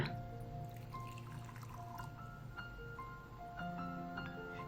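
Hot water, about 50 ml, pours into a cup for Nescafé espresso coffee, a steady close liquid stream with faint trickling and no voices.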